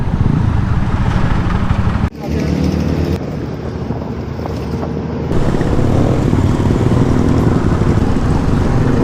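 A Royal Enfield Thunderbird Bullet motorcycle riding on a road, its engine thump mixed with heavy wind buffeting on the microphone, the roar dipping briefly partway then returning steady and close.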